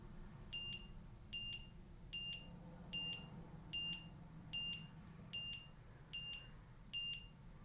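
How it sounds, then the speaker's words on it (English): A high electronic beep from a LOXP wallet tracker card repeats in short, evenly spaced pulses, about one every seven-tenths of a second, loud and piercing over faint background noise. "you trigger a sound right there, and it plays a loud beep"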